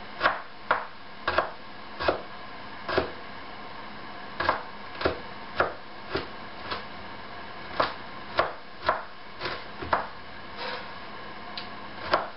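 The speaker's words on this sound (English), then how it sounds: "So we're just going to cut the root just like this, chop it up" A knife chops through a tough root on a board for a homemade herbal tincture, about twenty sharp, uneven knocks spread over the stretch, close and distinct with no talk.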